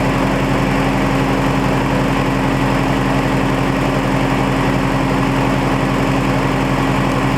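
A Suzuki Bandit motorcycle engine idles steadily at close range, a constant low chugging drone with no breaks or change in pitch.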